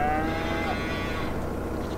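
Cows moo in the farming game Farming Simulator 22, one drawn-out low moo near the start, then a quieter farmyard ambience.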